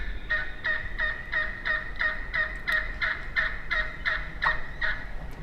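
A live wild turkey hen yelps in a rapid regular series of about a dozen nasal, slightly honky notes, fairly close against quiet outdoor background.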